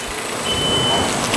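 A Loma IQ4 metal detector reacts to a non-ferrous test sample with a brief steady electronic tone over a constant hum of conveyor machinery.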